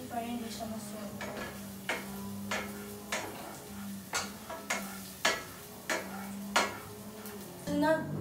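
Garlic being stirred in a pan for carbonara, with spaced utensil scrapes and clinks against the pan every second or so over a low steady sizzle, close and moderately loud.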